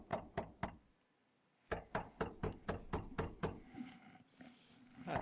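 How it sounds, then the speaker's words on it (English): Repeated knocks on a door, three sharp raps then a longer run of eight or so loud, evenly spaced blows, close and alone, followed by faint shuffling. "The knocking, the infernal knocking."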